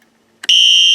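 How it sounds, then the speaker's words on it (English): A higher-pitched Wheelock Exceder fire alarm horn cuts in after a brief click and sounds one steady, loud, piercing tone to the end, preceded by near silence. "this exceeder is a little more higher pitched than the one in my room, and it's not that loud"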